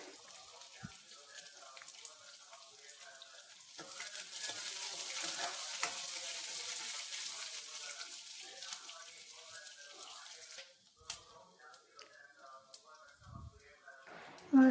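Chopped onions frying in hot oil in a pan for capsicum lemon rice, a steady sizzle rising midway and holding for several seconds with some stirring and clatter, then fading back down with scattered kitchen sounds.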